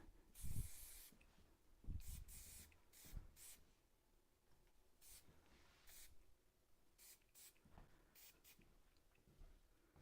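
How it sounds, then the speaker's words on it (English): Paul Mitchell spray wax is sprayed onto a freshly cut short shag hairstyle in several short, close hissing bursts. The bursts come at uneven intervals, and quiet handling noise fills the gaps between them. "And then finish it with a little bit Paul Mitchell spray wax."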